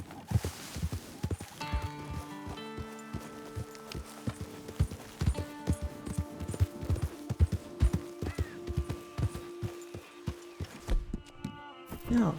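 Horse hooves clip-clop at a steady walking rhythm along a trail in Red Dead Redemption 2, with occasional tack jingles and a faint musical drone underneath.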